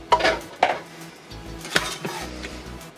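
A spatula scrapes around a bowl of crumbly pasta dough in a few short, scratchy strokes with light knocks against the bowl, close and fairly quiet.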